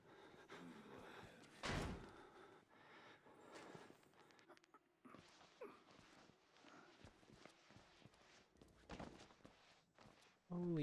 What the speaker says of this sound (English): he broke through the door